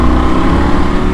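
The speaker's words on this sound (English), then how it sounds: "Oh god, this exhaust, man." Triumph Tiger 900 Rally Pro motorcycle exhaust rumbling loudly and close, a deep throbbing engine note held steady for a brief moment with no talk.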